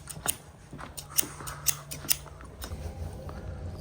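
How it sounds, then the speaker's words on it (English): Milwaukee scissors snip several times during an HVAC job in Florida, sharp crisp cuts in an uneven rhythm, followed by softer handling noise. "got the scissors right here, Milwaukee ones"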